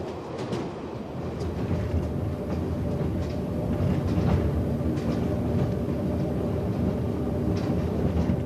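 A train runs across a limestone plateau into Guizhou province, China, with a continuous low rumble and faint rhythmic clatter of wheels, steady and close.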